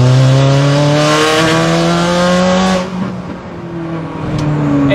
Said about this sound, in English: Quando affondi il gas, sentite l'accelerazione.